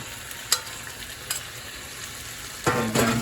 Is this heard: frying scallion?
yes